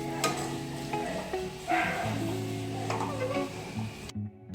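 Sabudana khichdi with peanut powder and potatoes is stirred and sautéed in a pan, with scraping spoon strokes and a soft sizzle underneath, plus a low steady hum, and then a short drop to near silence at the end.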